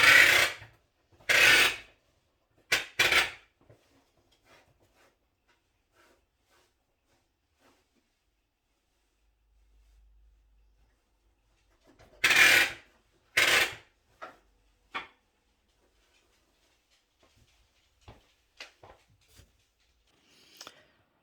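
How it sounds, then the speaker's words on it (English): Bursts of rubbing, rasping friction as warp is wound onto the back beam of a rigid heddle loom come in short spells separated by long quiet gaps, followed by scattered faint clicks and taps nearby. "I'm just going to wind it onto the back beam"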